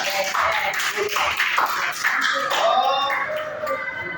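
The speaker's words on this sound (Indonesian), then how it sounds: "Tepuk tangan dulu ya." Classroom clapping from a group of students, a busy patter of hands with chatter and voices over it throughout.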